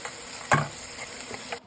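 Sheep belly fat sizzling as it fries in a pan, a steady close crackle and hiss with one louder burst of spitting partway through.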